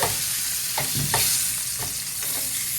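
Pork chops sizzle steadily in a hot pan, with a few brief scraping and clattering bursts as they are flipped over, close and continuous with no talking.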